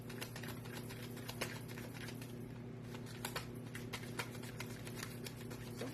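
Cards being shuffled during a card reading give a continuous rapid patter of papery flicks and riffling clicks, close and fairly quiet, running steadily for six seconds with a few louder snaps.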